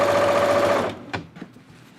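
Sewing machine running a second row of stitching around a pant waistband, a loud close whirring burst that stops after about a second, followed by a few soft handling clicks.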